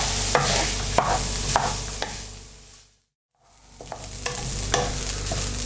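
A spoon stirs St Helena corned beef hash with chilli in a frying pan, sharp scrapes and knocks over a steady sizzle, broken by a brief silent gap midway.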